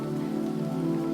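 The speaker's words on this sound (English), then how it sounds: "The rain is beginning to slow now" Soft, gentle rain patters steadily beneath a sustained low tonal drone, quiet and even with no voices.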